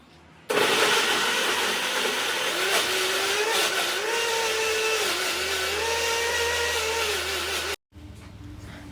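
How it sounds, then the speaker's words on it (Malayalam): A mixer grinder whirs loudly and steadily for several seconds, its pitch wavering slightly, then cuts off abruptly before a quieter hum resumes. "മിക്സിയുടെ ജാറിൽ നന്നായിട്ടൊന്ന് അരച്ചു കൊണ്ടുവരണം"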